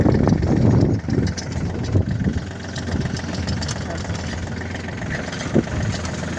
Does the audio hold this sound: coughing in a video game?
no